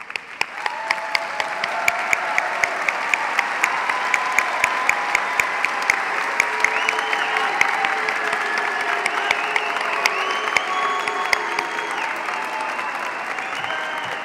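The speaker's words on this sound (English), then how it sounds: "please stand up and applaud your families" Sustained applause from a large crowd at a Boise State University graduation ceremony, steady and loud throughout, with occasional sharper claps and faint cheering mixed in.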